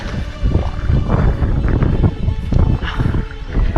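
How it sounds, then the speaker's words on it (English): Strong gusts of wind roar steadily across the microphone on Helm Crag, a loud continuous buffeting rumble with no voices. "It's getting windy now"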